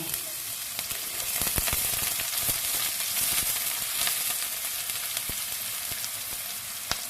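Onion and chili fry in a hot pan after ginger, giving a dense, steady sizzle with occasional stirring clicks, close and continuous without talk.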